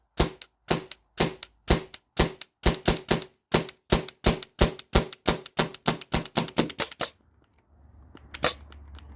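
Modded Byrna TCR launcher on CO2 dry-fired empty to vent gas: a rapid string of about thirty sharp, loud, close pops in quick succession, then a few faint hisses and one last pop.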